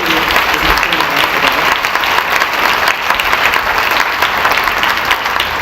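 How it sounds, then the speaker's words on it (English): Loud, continuous applause from an audience at a charity breakfast event, a dense, even roar of many hands clapping close by that holds steady throughout. "Can we give her a round of applause?"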